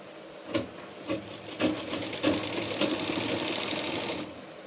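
A sewing machine joins the inner strip of a cotton blouse piece, starting in short rhythmic bursts of needle clatter, then settling into a steady close-up run before stopping.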